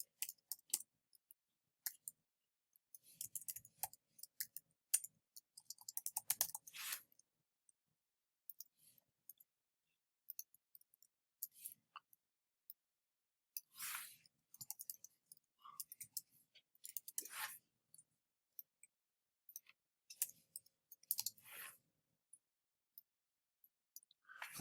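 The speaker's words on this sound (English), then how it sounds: "I'm typing a T and then pressing Control Space" Someone types on a computer keyboard in quiet, close clusters of sharp clicks separated by silent pauses, with sparse bursts scattered through the stretch and no talking.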